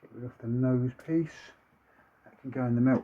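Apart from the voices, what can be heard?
No everyday noises stand out.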